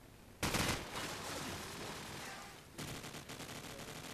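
Rapid bursts of AK-74 automatic fire in a Call of Duty 4 competitive match, two dense crackling volleys with sustained noisy firing between them, fairly faint and distant-sounding.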